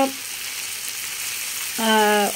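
Meat fries in a pan with a steady, even sizzle throughout, briefly joined by a short tonal sound at the start and again near the end.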